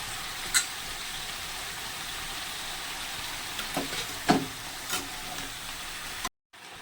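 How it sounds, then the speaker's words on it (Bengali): Vegetables and stalks frying in a pan, a constant soft hiss with a few scattered utensil taps and scrapes, then a sudden cut to silence at the end. "সবজিগুলো এখানে ভাজা হচ্ছে"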